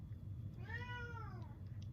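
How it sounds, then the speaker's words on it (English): A cat lets out a single drawn-out meow, clear and fairly close, rising and then falling over a low background hum in a quiet room. "if you can hear her meowing"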